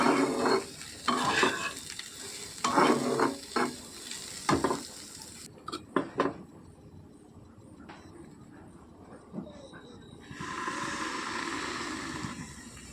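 Eggplant and chillies stir and sizzle in a pan, with clattering spoon scrapes in bursts, then a lid goes on and a splash of water hisses into the covered pan as a steady soft sizzle.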